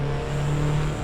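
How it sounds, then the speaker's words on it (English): Car engine in the Assetto Corsa racing game, an old carbureted French Clio with a turbo, giving a loud, sustained engine drone with a thin, steady chirping whistle riding on top. "whenever I hear birds chirping under the hood, I know, first of all, that it's because of the turbo"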